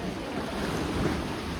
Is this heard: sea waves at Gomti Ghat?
yes